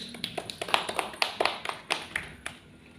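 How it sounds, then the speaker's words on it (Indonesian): A classroom of students claps for their classmates, a short burst of scattered, uneven hand claps that starts lively and thins out after about three seconds, close by and with no talking. "beri tepuk tangan untuk teman-temannya"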